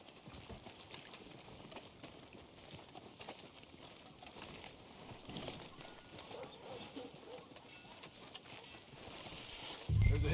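Horse hooves in Red Dead Redemption 2 clip-clopping at a steady walking rhythm, soft and fairly distant, continuous over a low ambient bed, with a louder thump at the very end.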